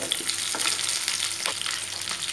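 Onions and green chili frying in oil on low heat make a steady, close sizzle with faint crackles and occasional stirring taps, and no voices.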